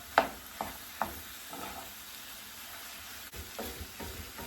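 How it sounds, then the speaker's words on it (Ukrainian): Minced meat frying in a pan with onions, carrots and mushrooms, a soft continuous sizzle punctuated by a few light taps and scrapes of a stirring spoon. "І дамо йому час піджаритися"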